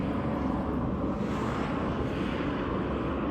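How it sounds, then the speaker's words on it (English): Steady, dense engine rumble of a helicopter flying overhead in Whetstone, Arizona, holding at an even, fairly loud level throughout with no voices. "Being followed by a freaking helicopter."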